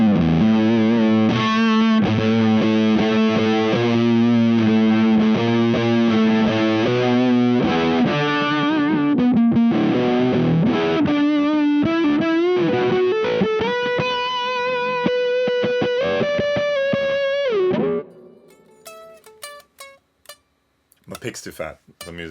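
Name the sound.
guitar through Leadbetter Dopamine dual stage fuzz pedal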